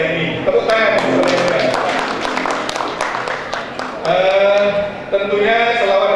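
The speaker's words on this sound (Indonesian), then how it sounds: "Tepuk tangan." Audience at a meeting in Turen, Malang, clapping, with irregular claps under a speaking voice that continues over the applause and swells again near the end.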